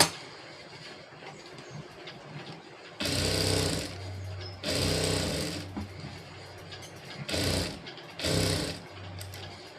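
A sewing machine stitches a seam in fabric lining, running in several short bursts of about one to two seconds each separated by quiet pauses, heard close and alone.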